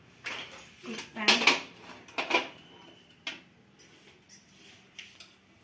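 A metal pan is picked up and set down for tempering, giving a few clanks and clatters at close range, then softer scattered taps and small knocks.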